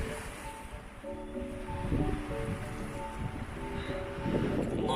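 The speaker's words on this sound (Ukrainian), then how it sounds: "Отакі хвилі." Winter sea waves wash and surge in a steady roar with gusts of wind buffeting the microphone, and a louder break swells near the end.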